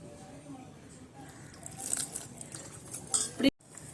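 A spoon scrapes and clinks against a bowl while stirring a wet cauliflower pakoda batter of gram flour, rice flour, chilli powder and water, soft and close, with a few sharper knocks toward the end.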